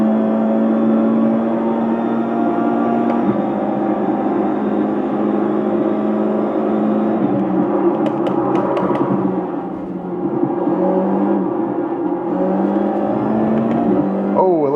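Formula 4 race cars running wheel-to-wheel in the sim racing game iRacing, a loud, steady engine drone near the listener with shifting pitch, a few brief clicks, and talk underneath.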